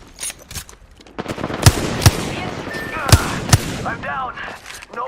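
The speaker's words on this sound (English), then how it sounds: "Enemies right here. Shooting at me." Video game gunfire from enemies shooting at the player, several sharp loud shots cracking out at irregular intervals amid rapid bursts and game effects, with a player talking over it.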